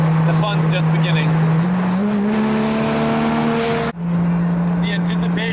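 A Porsche GT3 RS sports car engine roars in the Smoky Mountains, holding a loud, steady high-revving drone that climbs in pitch, cuts off briefly with a gear change, then resumes.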